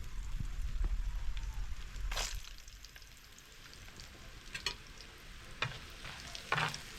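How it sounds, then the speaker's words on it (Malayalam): Chopped coconut pieces frying in hot coconut oil for a rabbit roast, a faint steady crackle with occasional louder stirring scrapes. "അതിലേക്ക് നമ്മൾ ആദ്യമേ അങ്ങ് തേങ്ങാക്കൊത്തിട്ട് കൊടുക്കുകയാണ്"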